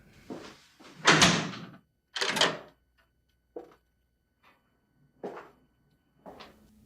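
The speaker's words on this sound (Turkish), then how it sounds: "Kapıyı kilitledim." A door closes in a few knocks and bumps, and a lock clicks. Several quieter clicks and rattles follow, close by and in an otherwise quiet room.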